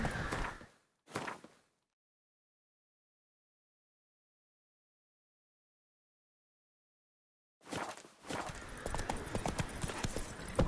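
Horse hooves clopping on the ground in The Witcher 3, short bursts of rhythmic footfalls at the start, then silence, then a steadier run of close hoof beats.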